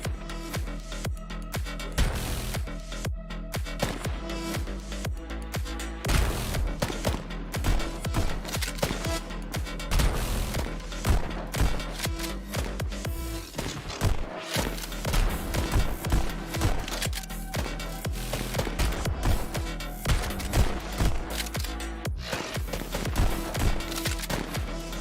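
Rapid gunfire in the VR rhythm game Pistol Whip, sharp, loud pistol shots fired in dense, driving bursts over pounding backing music, continuing steadily for the whole stretch.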